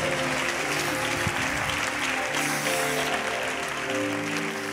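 A church congregation breaks into loud, sustained applause for an interpreter during a worship service, dense clapping filling the room evenly from start to finish.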